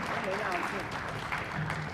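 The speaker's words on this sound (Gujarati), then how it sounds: "તાળીઓ સાથે વધાવો એમના દાનને" Applause at the 2024 annual gathering of the Ahmedabad Municipal Corporation pensioners' association, greeting a donation; a steady patter of clapping from the audience runs throughout, with a voice over it.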